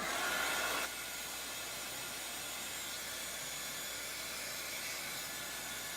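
A steady blowing hiss from a heat gun drying paint runs continuously at moderate level, slightly louder in the first second.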